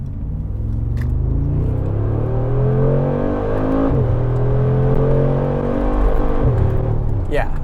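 A 2021 Mercedes-AMG G63 in Sport Plus and manual mode launches hard from a stop sign, its engine roaring loudly through rising gear pulls with brief dips at shifts, the heavy exhaust rumble dominating throughout.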